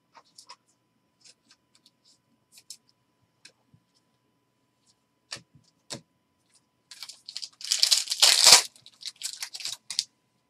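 A basketball trading card pack is torn open, with scattered faint clicks and rustles before a burst of crinkly foil tearing and ripping close up, then a few more crackles.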